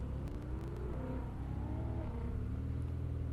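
Ferrari F8 Spider driving on an airstrip at a speed event, a steady low engine rumble with rising and falling tones heard from a moderate distance, somewhat faint and continuous.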